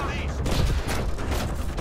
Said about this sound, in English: Swarm missiles ready.